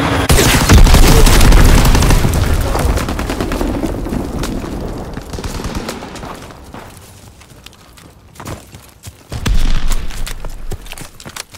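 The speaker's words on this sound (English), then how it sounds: "Enemy bomb incoming! Get to cover!" A bomb explosion in Call of Duty WW2 lands amid a dense roar of battle, loud rumbling blasts and gunfire at first, easing into scattered shots before a second heavy boom near the end.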